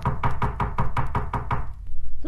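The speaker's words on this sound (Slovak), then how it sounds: "Kto to klope?" Knocking on a door in a Slovak telling of Little Red Riding Hood: a steady run of about eight close, sharp knocks at an even rhythm, then a brief pause before a voice begins.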